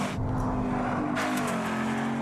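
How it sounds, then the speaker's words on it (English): A Ford Mustang Boss 302 with a race-ready 5-liter V8 roars loudly and steadily, its engine note swelling as it passes close by. "the race-ready Boss 302, with a 5-liter V8 you can take to the racetrack."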